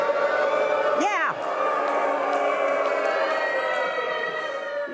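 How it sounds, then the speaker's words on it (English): A live audience cheers and shouts at a standup comedy show, one loud whoop rising early over a steady crowd murmur while a voice keeps talking. "Crowd is getting riled up over that."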